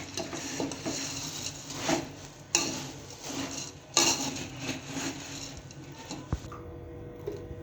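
A spoon stirs masala into puffed rice for sev mamra, producing a continuous close rustle and scrape of dry grains with periodic louder sweeps and a few clinks against the vessel.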